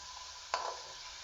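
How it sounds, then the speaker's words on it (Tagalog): Vegetables for pancit bato are sautéed in a pan: a soft, steady sizzle, then one quick scraping stir that flares briefly louder before settling back to the low hiss. "Ito mga kaidolan, gigisa muna natin, palulutuin natin ito bago natin iligay si pichay."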